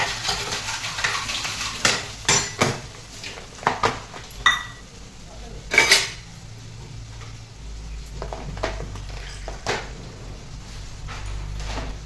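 Dishes and new tea cups clatter as they are put away in a home kitchen, several sharp clinks and knocks in quick bursts, with a low steady hum underneath.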